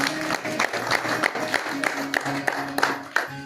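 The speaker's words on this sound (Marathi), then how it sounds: "दोन्ही हाताने टाळी वाजून स्वागत करायला" An audience at a Bhagavat katha religious gathering claps with both hands in welcome, a dense run of sharp claps that rises and falls, with a voice or tonal sound underneath.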